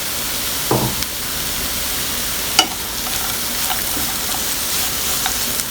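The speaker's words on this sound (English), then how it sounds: "And I'm going to add some peanuts to it." Peanuts hit a hot pan and fry for a Kolkata street-food-style vegetable chop: a steady sizzling hiss with a few clattering knocks and stirring scrapes.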